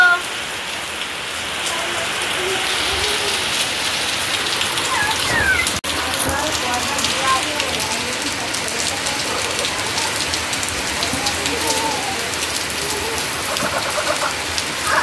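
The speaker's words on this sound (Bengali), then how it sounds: "দেখ না কি বৃষ্টিটা হচ্ছে।" Heavy monsoon rain falls steadily and loudly, a broad continuous hiss of drops on surfaces that lasts the whole time, with a faint voice briefly underneath.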